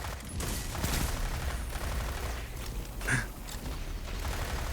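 Rapid SMG fire in the shooter game Destiny, a dense, continuous rattle of shots mixed with mechanical clatter and a brief louder burst, with no voices over it.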